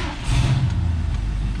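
A 1969 Mercury Cougar SS, a barn find left sitting for 20 years, cranks and catches, its engine settling into a loud, steady low rumble close by.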